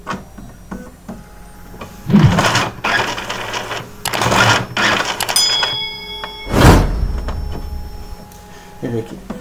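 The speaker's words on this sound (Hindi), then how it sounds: "जब ये पेपर नहीं खींच पाया प्रिंटर से तो ये जो है इस तरीके से एक एरर आ जाती है।" An Epson L380 inkjet printer failing to pull in paper whirs and clunks through repeated motor bursts and mechanical clatter, with a few short electronic beeps and some speech around it.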